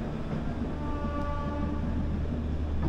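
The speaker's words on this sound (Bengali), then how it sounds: "ফাইনালি আমাদের ট্রেন ছাড়লো" The Shalimar–Puri Weekly Superfast Express pulls away, heard from inside as a steady, close, low rumble with a faint tonal hum running through it.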